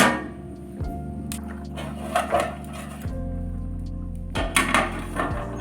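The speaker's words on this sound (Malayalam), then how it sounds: "മൂടി വെക്കാം" A metal lid is set onto a large cooking pot while chicken cooks, with a few clanks and clinks scattered through otherwise quiet kitchen background.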